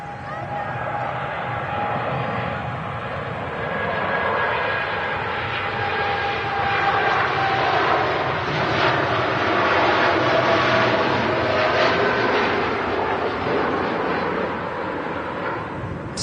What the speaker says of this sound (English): The aircraft departing.